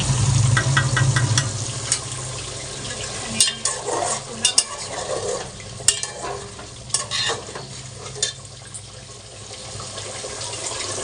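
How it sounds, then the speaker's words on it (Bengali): Pumpkin frying in a pan sizzles steadily while a utensil stirs and scrapes it in irregular clattering knocks, close and fairly loud, with no talking. "দেখো কুমড়োটা এখানে একটু এটাকেও ভেজে নেব"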